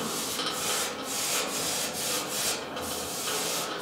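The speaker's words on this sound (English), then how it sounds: "I'm going to sand it down with some sanding paper" Sandpaper rubbed by hand over the painted metal surface of an old locker, a steady rasping scrape with repeated strokes and brief pauses, close up and alone.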